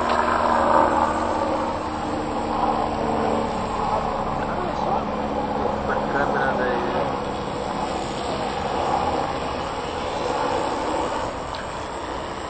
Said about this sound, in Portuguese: quando tá mais baixo o som diminui, quando força a barra do motor